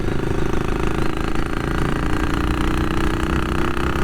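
An old BSA British classic motorcycle cruises at about 50 mph on a country lane, its engine a loud, continuous, even throb close to the microphone.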